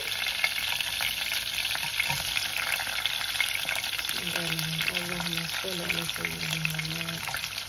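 Chopped onion is stirred into hot oil with mustard and fenugreek seeds while cooking a Malay-style vinegar mackerel dish. A steady close sizzle runs throughout, and brief voice-like tonal sounds come through midway.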